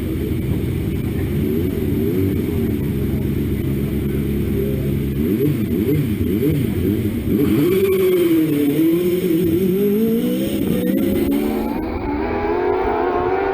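A hillclimb race car at Gurston Down passes at speed, its engine note rising and falling in a loud, continuous howl with shifting pitch. It is heard alone, without talk.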